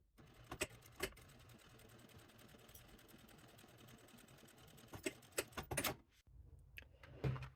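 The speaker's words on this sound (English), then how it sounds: "now we will take it to the machine and we will sew the bottom, not the lining, just the vinyl" A sewing machine stitches across the bottom of a clear vinyl zipper pouch, a faint even whir punctuated by sharp clicks and taps near the start and the end.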